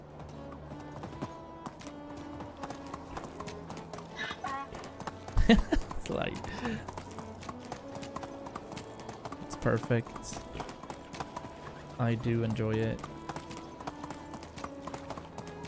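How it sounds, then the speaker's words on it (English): Donkey hooves clip-clopping and braying bursts in a winter survival video game, close and loud in short flurries, with a person talking quietly over them. "Donkey noises are the best noises."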